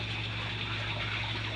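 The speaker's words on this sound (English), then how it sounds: "basically little sump pumps that pump all the water" Small sump pumps move water in an aquaculture system, a steady close whooshing, gushing flow with a low constant motor hum and no speech.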